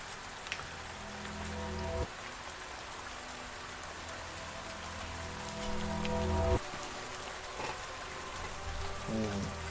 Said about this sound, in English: I'm getting out of the rain.